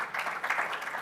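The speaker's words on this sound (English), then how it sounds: "maybe let's just give a round of applause once more." Audience applause at a development trust annual lecture, a short dense patter of many hands clapping at moderate volume from across the hall.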